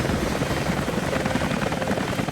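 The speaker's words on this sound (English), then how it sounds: "where is that helicopter? I hear it, but I don't see it." A helicopter in the video game Rise of the Tomb Raider thunders steadily close by, its dense rotor and engine roar filling the whole stretch with no talk over it.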